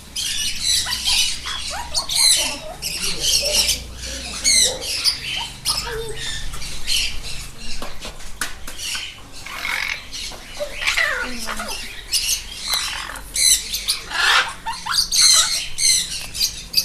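Birds at the Yelagiri birds park squawk and screech continuously, a dense overlapping chorus of close, loud calls with constant chatter throughout.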